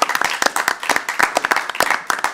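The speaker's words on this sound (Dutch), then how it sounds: "Geef hem nog even een groot applaus." A studio audience at a Dutch regional TV show claps for a performer, a lively patter of many hands at moderate loudness, fairly close and continuous without voices.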